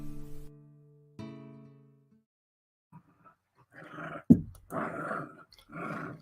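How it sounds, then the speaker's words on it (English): Dog growling and barking nearby: a low drawn-out growl at first, then a series of loud, rough barks in uneven bursts. "Sorry if our dog is being loud tonight."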